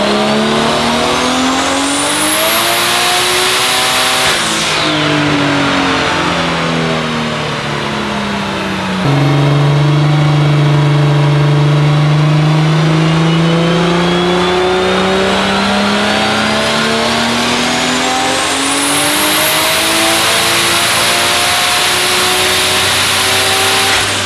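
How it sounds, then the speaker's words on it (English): A turbocharged 12-valve VR6 in a B5 Audi A4 revs hard on a dyno, climbing to a high scream, dropping back, then pulling up again in long, loud sweeps with a whining turbo tone. "we got the car here on the dyno down in LA essentially"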